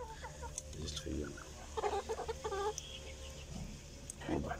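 Domestic laying hens of a local Arab breed cluck in short, repeated bursts, close by, with a steady low hum in the background and some faint voices.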